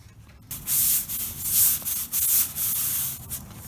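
A scraper rasps flaking paint off an old, mildewed grocery store wall in close, loud, repeated strokes, each a harsh scratchy scrape separated by short pauses.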